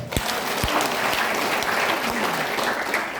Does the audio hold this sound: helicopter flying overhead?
no